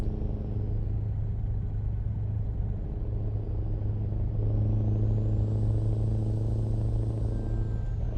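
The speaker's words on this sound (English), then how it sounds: "I wanted to hear my truck going through the tunnel." A truck drives through a tunnel, its engine and tire roar forming a loud, enclosed rumble that swells steadily and holds continuously throughout.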